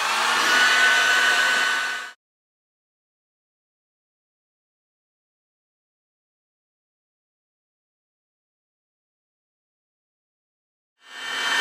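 A hair dryer heats a Peugeot 103 moped engine's aluminium crankcase to free a bearing, blowing as a steady close whoosh for about two seconds, then cutting off into silence before starting again at the end.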